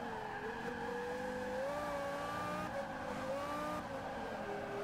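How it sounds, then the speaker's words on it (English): Formula-style race cars in the Forza racing game scream past with high whining engine notes and screeching tires, a continuous loud drone of several cars shifting pitch together, no voices. "You can just hear tires screeching, that amazing F1 note."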